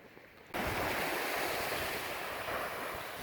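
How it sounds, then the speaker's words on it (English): Gulf of Mexico waves washing onto a white sandy Florida Panhandle beach, a loud, steady roar of surf mixed with wind buffeting the microphone, starting abruptly after a brief quiet moment. "So here we are on the white sandy beaches of the Panhandle. That's the Gulf of Mexico."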